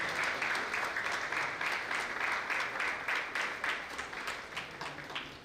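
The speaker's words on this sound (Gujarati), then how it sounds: "તાળી પાડતા રહેજો, તાળી બંધ ના થવી જોઈએ." A crowd claps at a community honour ceremony in Ramwadi, producing thick, continuous applause with quick overlapping hand claps that carry on evenly from start to finish.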